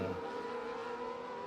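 Race car in an F1 video game locking its tyres on asphalt during a Bahrain Grand Prix, a steady engine drone with a brief scrubbing tyre noise at the start, fairly loud and continuous, no voices.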